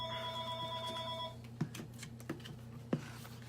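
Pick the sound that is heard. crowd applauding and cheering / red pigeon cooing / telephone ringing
telephone ringing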